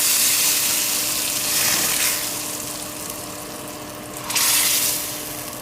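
Steady hissing sizzle of hot oil tadka poured onto dal, with a brief louder burst of crackling toward the end; no voices.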